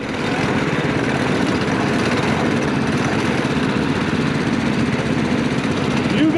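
A homemade four-engine go-kart grinds along an offroad hill on worn, treadless tires, its small engines droning in a steady, loud, buzzing roar throughout, with faint voices beneath.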